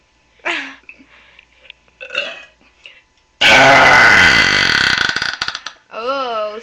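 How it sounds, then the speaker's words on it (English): A woman gives a long, loud, rasping burp lasting a couple of seconds, framed by short bits of her own voice before it and a vocal sound after it. "Can you give us your penguin burp?"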